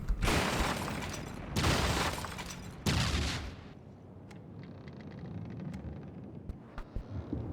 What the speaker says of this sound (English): So, the cannons are doing a lot of damage